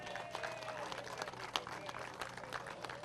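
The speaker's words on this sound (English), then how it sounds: "Give them a big round of applause" Crowd applause at a giant pumpkin weigh-off during the 2019 Great Pumpkin Festival in Allardt, Tennessee, a steady spread of claps with a few sharper hits, mixed with crowd noise and some talk.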